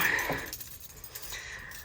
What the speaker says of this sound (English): I gotta get the keys out of my pocket.